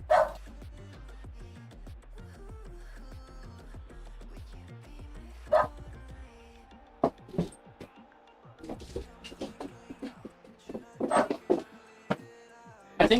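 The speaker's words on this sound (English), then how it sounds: "Sorry, my dog's barking." A pet dog barks intermittently indoors, scattered single barks that turn into denser clusters of yaps near the end, close and moderately loud.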